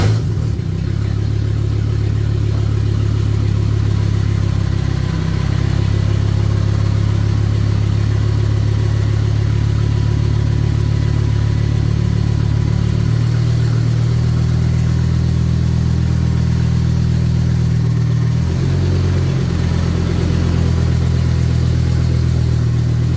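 A Hummer H3 engine rumbles and idles steadily for the whole stretch, a low, loud, continuous drone with slight dips in pitch and no voices.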